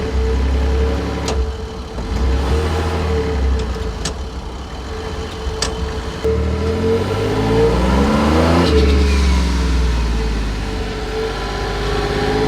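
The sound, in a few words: car accelerating in first gear, manualized F4A51 automatic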